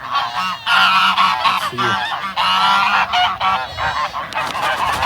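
Geese with older and very young goslings honk in repeated loud bursts, overlapping nasal calls close by, with a brief spoken remark near the start.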